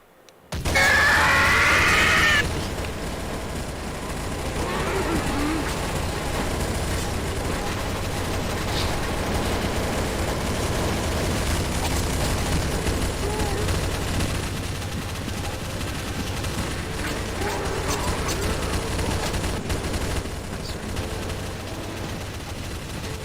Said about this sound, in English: destroy the golem first. And then, yes, shoot the main boss